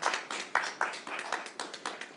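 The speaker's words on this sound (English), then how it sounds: "how about a round of applause for a good guy" A small group claps for a young mechanic who won a $1M vaccine lottery in Washington, a sparse run of about ten distinct claps in a loose, uneven rhythm, close and fairly quiet.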